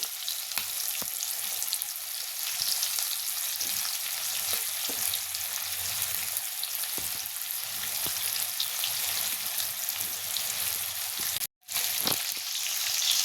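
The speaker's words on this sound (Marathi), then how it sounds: "अशा पद्धतीने सगळी भेंडी आपल्याला तेलात सोडायची ही।" Stuffed masala okra, bhendi filled with spice paste, frying in hot oil, giving a steady, dense sizzle close up that holds unbroken for the whole stretch, with a few faint stirring knocks and one abrupt momentary dropout.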